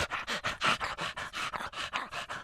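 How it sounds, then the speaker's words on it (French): A big dog pants rapidly and steadily, close by, with about a dozen quick rhythmic breaths and no voices. "Le chien, le gros chien,"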